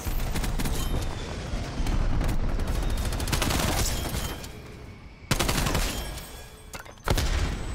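A gunship killstreak in a team deathmatch shooter game pours out continuous rapid gunfire, dense and loud, with heavy booming bursts that restart abruptly in several waves.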